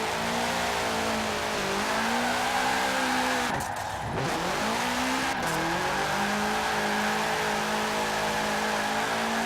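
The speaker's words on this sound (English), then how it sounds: "I'm just trying to have some fun drifting" A 2005 Subaru WRX STI drifting in the Forza Horizon 4 video game, its engine droning loud and steady, dipping sharply and climbing again midway, with brief tire-scrub noise during the slide.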